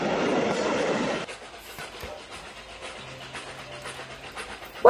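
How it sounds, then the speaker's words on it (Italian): A train departs, starting as a loud rumbling rush that drops to a quieter clatter and hum as it pulls away, ending with a sudden sharp sound. "Quando il treno parte"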